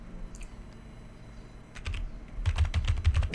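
Keys clatter on a computer keyboard in quick, irregular keystrokes that begin sparse and then grow into a faster run of typing over a low steady hum, with no talk.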